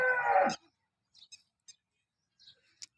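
A dairy cow that calved ten to twelve days earlier gives one loud, close, drawn-out moo lasting about half a second, followed by a few faint, short scattered sounds in near silence.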